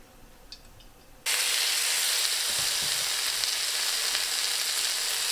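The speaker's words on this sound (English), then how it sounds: "I'm just gonna cook this in a little bit of olive oil." Pike fillets dropped into hot olive oil in a pan at an off-grid cabin: after a quiet moment, a sudden loud, steady sizzle bursts in and holds, crackling evenly with no talk.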